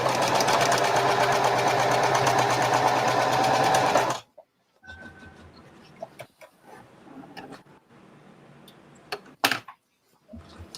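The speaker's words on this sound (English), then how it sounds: "we are going to sew the lining to the tote" Sewing machine stitching the lining onto a tote bag made from bandanas, running steadily and loudly for about four seconds, then stopping, followed by quieter handling clicks and rustles.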